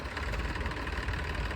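An Eicher tractor engine idles in a farm field with a continuous low, rumbling drone, close and steady with no voices.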